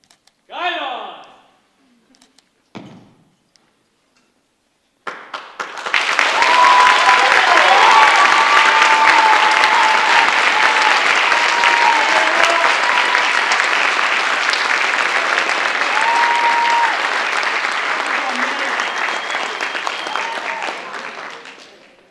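Audience applause at a school NJROTC awards night, a long sustained round of clapping that fills the hall for about fifteen seconds, preceded by brief voices and a couple of short sounds, with faint vocal tones mixed into the crowd noise.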